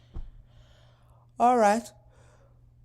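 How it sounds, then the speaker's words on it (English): A person yawns once, a drawn-out voiced breath that swells and fades over about half a second, preceded by a brief soft thump in an otherwise quiet room. "I'm just yawning and yawning."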